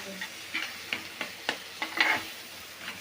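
Masala being stirred in a pan for a dried Bombay duck (bombil) chutney, with a spatula scraping in sharp, evenly spaced strokes over a light sizzle. The scrapes come close and clear, with no talk.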